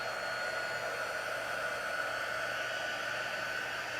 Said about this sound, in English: This is our heating tool. It's not really hot. You can see it's just really warm.